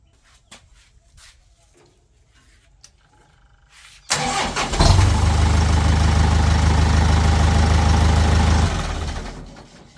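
A Yanmar farm tractor's engine is cranked and catches after a few seconds of quiet clicks, then runs at a loud, steady, rough idle nearby for several seconds before fading as it shuts down.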